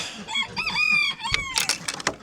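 A rooster crows among chickens in a coop on a cold morning, its call ringing out close and clear, followed by a few sharp clucks and squawks from the hens.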